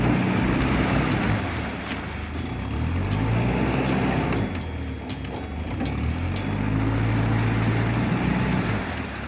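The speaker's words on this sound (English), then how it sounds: "High revs back and forwards basically to try and clear the prop, because I felt like we're catching stuff constantly." Narrowboat engine pushed to high revs in forward and reverse to clear a fouled propeller, a loud throbbing drone that rises and falls in pitch over outdoor wind and water noise, with no talk.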